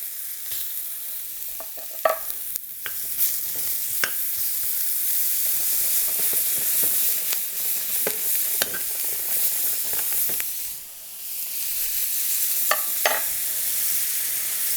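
Butter with rosemary and thyme sizzles steadily in a hot pan as it browns, with repeated stirring scrapes and spoon clinks over the constant frying hiss; no one speaks.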